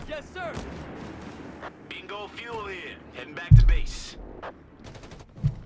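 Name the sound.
rifle grenade hit and gunfire in video game Company of Heroes 3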